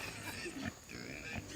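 Pigs on a farm grunt and snuffle close by, a few rough grunts over constant outdoor background noise.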